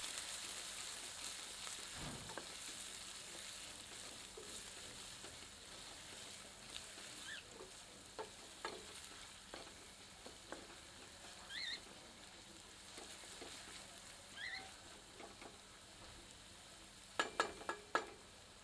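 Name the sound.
onions frying in oil until golden brown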